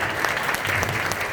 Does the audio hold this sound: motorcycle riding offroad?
no